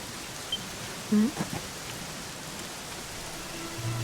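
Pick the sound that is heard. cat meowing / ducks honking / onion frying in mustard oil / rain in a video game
rain in a video game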